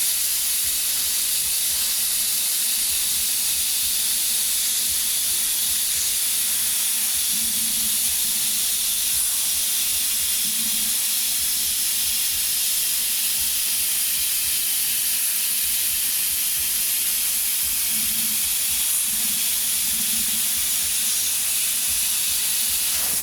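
An airbrush sprays black paint along the edge of a stencil mask, a loud, steady hiss that runs unbroken throughout over a faint low rumble, with no voices.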